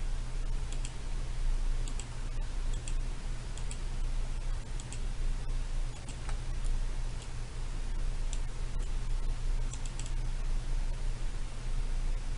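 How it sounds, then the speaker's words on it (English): Scattered computer keyboard key presses and mouse clicks during spreadsheet work, soft irregular taps over a steady low hum, no voices. "I press Ctrl on keyboard and select all these columns"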